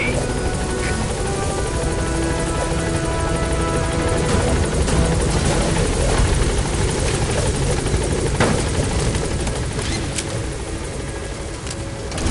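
The Pequod helicopter in Metal Gear Solid V: The Phantom Pain arrives at a landing zone, its rotor and engine drone loud and continuous with faint game effects layered over it.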